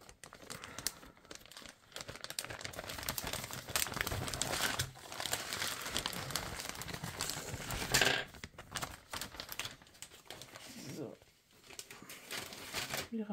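A plastic bag crinkles and rustles in bursts at close range while someone talks over the handling, sorting embroidery supplies.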